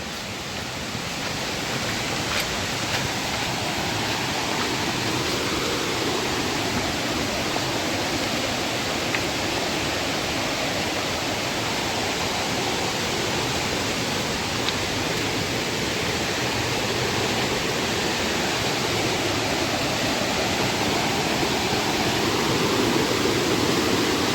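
A swollen monsoon stream rushes steadily, its dense, unbroken roar filling the whole stretch at an even loudness with no voices.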